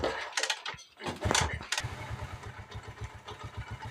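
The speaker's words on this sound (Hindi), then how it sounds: "अब मैंने मोटरसाइकिल से स्टार्ट करना है।" A motorcycle engine cranks and fires into a steady idle, with a rapid regular thump from the engine running close by after a few irregular bursts. No one speaks.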